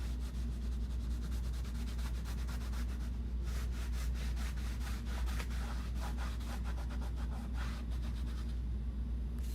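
A baby wipe rubbed back and forth across a rough, rustic wooden pumpkin, giving a repeated scratchy scuffing over a constant low hum, with no voices.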